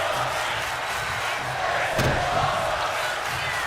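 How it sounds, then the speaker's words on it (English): Wrestling crowd at an XFW digital promotion event roars steadily after a move through a table, a dense continuous wash of voices with a brief louder swell midway, no distinct chant words standing out. "The crowd now with this is awesome chant."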